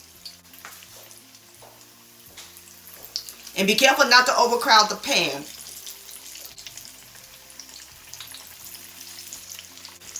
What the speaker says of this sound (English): now we're going to let the pies fry for about 3 minutes